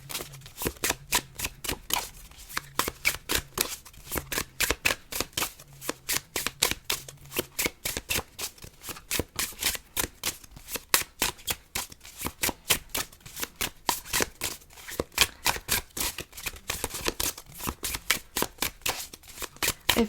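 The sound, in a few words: shuffling tarot cards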